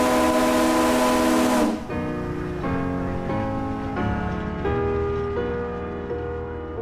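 A steam whistle at a steam threshers' reunion in western Minnesota blows loud and steady near the microphone for a couple of seconds. Its rich harmonic tone then continues in several slightly shifting pulses, fading gradually.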